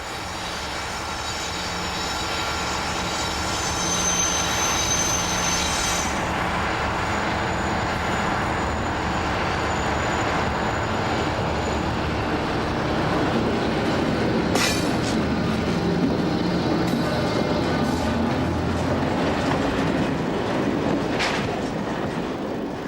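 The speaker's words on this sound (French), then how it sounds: "on identifie aisément un train arrivant d'outre-Manche, après avoir emprunté le tunnel, puis les voies du Nord-Est" A freight train with low-profile wagons, arriving from the Channel Tunnel, rolls past on the main line between Dijon and Lyon: a loud, steady rumble of wheels on rails with occasional metallic squeals, close by and continuous throughout.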